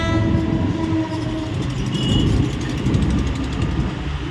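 A Duronto express train rolls past on the line near a road, its horn sounding over the steady rumble and clatter of the coaches, loud and continuous throughout.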